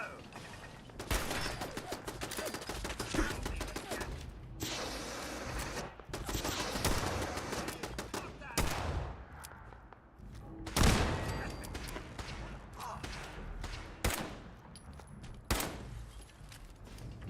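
Pipe revolver shots in the video game Fallout 4, firing repeatedly as sharp reports across a busy, noisy game scene. Some speech is present.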